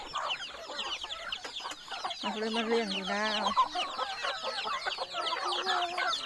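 Chickens on a rural farm cluck repeatedly and fairly close, in a busy, overlapping chatter of short calls. A faint voice speaks briefly among them.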